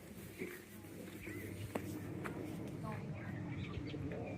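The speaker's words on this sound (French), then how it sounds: "Petit clin d'œil à Dan avec les oiseaux." Birds coo and chirp beside a lotus pond at Mougins on a calm spring day, with soft dove-like coos and scattered tweets over a quiet outdoor background with a few faint footsteps.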